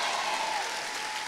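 Auditorium audience applauding at a church gathering in Auditorio Sendero de Paz, a steady dense wash of clapping without individual claps standing out, sustained and fairly even throughout.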